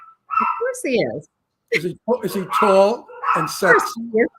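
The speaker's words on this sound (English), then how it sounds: "That's my dog." A dog barks and yips in short bursts close by, mixed in with people talking over it in a conversation indoors.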